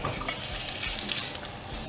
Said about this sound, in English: I'm going to fry the onions and the bacon